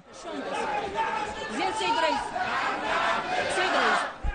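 Members of parliament chant and shout in the assembly hall during a vote on an election law, a crowd of raised voices that swells and overlaps, loud and continuous.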